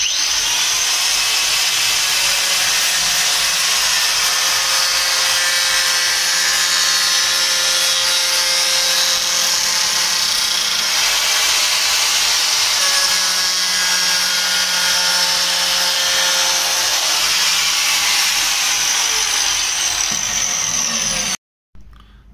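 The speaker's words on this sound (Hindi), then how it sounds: "हम ग्राइंडर की मदद से अभी कट लगाएंगे" An angle grinder cuts through a metal rod for a banjo button strip, a loud, continuous high whine that holds steady for about twenty seconds, then stops abruptly and spins down briefly.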